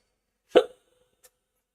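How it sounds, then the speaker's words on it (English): A single loud hiccup, abrupt and close, followed by a faint click and then quiet. "Hiccups."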